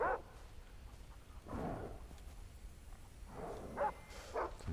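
A dog barks a few times at a distance in the video game Far Cry 3, short muffled bursts separated by pauses, over a quiet background.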